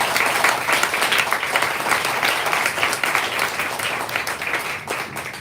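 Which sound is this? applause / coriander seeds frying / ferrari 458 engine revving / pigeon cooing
applause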